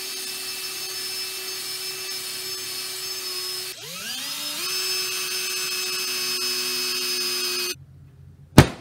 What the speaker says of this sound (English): I'm going to take a drill and I'm going to start drilling out little holes right where I put my markers